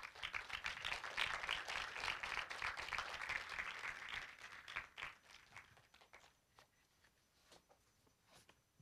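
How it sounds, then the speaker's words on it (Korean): Award ceremony audience applauding a journalism team, a dense burst of clapping that holds for about five seconds before thinning to scattered claps and fading out. "큰 박수 부탁드리겠습니다"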